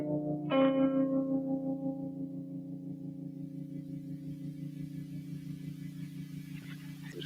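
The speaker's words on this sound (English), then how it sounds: "Listen to that reverb." A single tone rings out through an EMI TG12345 mixing console at Abbey Road and decays slowly into a long, smooth reverb tail with a low hum underneath, quiet and alone.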